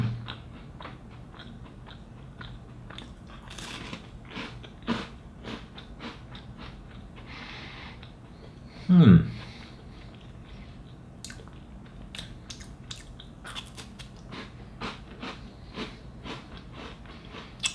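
Crunchy Britannia Marie Gold tea biscuits, made in Oman, are bitten and chewed right at the microphone, with a run of small crisp crunches and one louder bite partway through.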